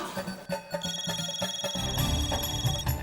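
A phone rings with a steady electronic tone over rhythmic background music, the ring continuing for a couple of seconds, with no speech.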